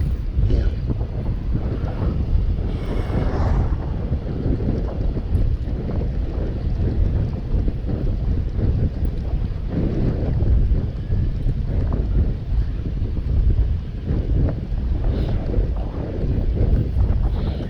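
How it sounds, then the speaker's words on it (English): Strong, hot wind on a road between Nairobi, Kenya and Moshi, Tanzania roars steadily, buffeting the microphone with a constant low rumble and occasional louder gusts throughout. "this place is very, very, very windy and hot"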